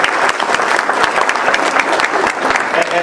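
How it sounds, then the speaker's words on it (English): A crowd at a 2014 Republican campaign rally in Washington County gives loud, sustained applause for candidates and elected officials. Dense, steady clapping fills the whole moment with a faint crowd murmur underneath. "So please, a round of applause for all the people that were introduced, all the candidates, all of your great elected officials."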